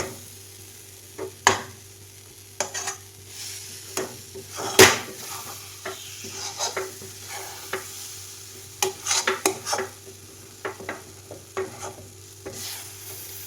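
Thick mango barfi mixture is stirred in a pan, with irregular scraping knocks and clacks of the spoon against the pan over a faint low sizzle, close and unhurried.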